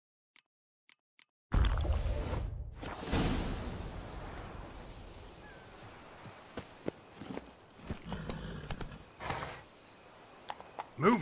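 Roach, the horse from The Witcher 3, moves along with rhythmic hoof clip-clops over a soft outdoor ambience after a few isolated clicks, steady and moderately close, with scattered louder knocks and no talking.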